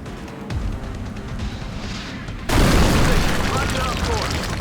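A normal rocket fires in XCOM Enemy Within, a low rumbling launch that breaks at mid-clip into a loud, sustained explosive roar with crackling debris.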